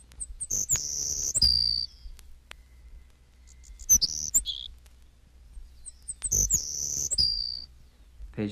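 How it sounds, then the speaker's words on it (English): A Savannah Sparrow gives its thin, high song of short chips ending in a buzzy trill, heard three times with pauses between, close and clear against near silence. "Page 230, Savannah Sparrow."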